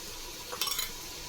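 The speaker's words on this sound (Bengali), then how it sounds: "নাড়াচাড়া করে দেবো।" Biryani masala with cashew and peanut paste is stirred in a pan, giving a brief soft scrape and clink of a spoon over a low background sizzle.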